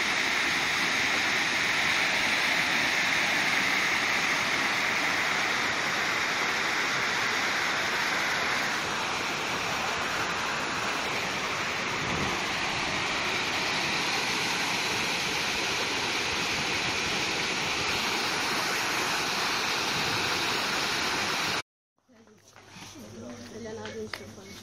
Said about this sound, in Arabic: ها انتم الشلال،